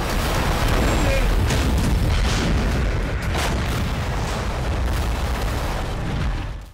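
A destroyed Russian howitzer explodes in a heavy, sustained blast that roars throughout, dense and loud like artillery fire, with rumbling low end that barely fades.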